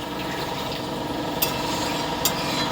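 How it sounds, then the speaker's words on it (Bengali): Water is poured into a pan of sautéed potato curry being made with chana dal fritters, giving a steady hissing, sizzling rush with two brief sharp clinks. "এবার জল ঢেলে দিচ্ছি, পরিমাপ মতন জল দেব।"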